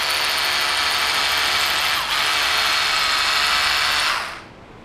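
Ingco cordless drill boring into concrete gives a loud, steady, close-up whirring grind that holds for about four seconds, dips briefly once, then winds down and stops.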